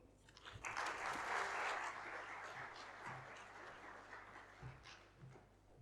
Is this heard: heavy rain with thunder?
no